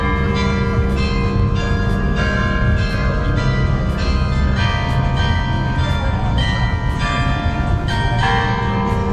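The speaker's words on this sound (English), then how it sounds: "enjoyed a performance by the bell tower" Bells of the church bell tower at Praça dos Clérigos in Porto ring out loud and near, with repeated strikes at a steady, rolling pace over a constant wash of ringing overtones and city background.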